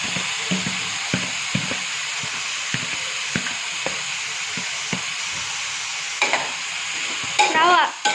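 Potatoes frying in oil in a pan for a potato fry, a steady close sizzle with repeated scraping and stirring clicks throughout, and a louder burst of spatula scraping near the end.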